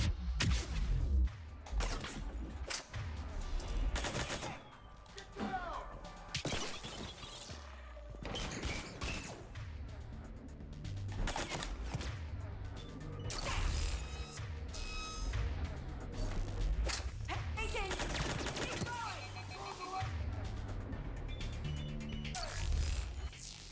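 Dense gunfire in a Mass Effect 3 firefight on Insanity difficulty, rapid bursts and impacts piled together with whooshes and crashes, loud and continuous through the whole stretch.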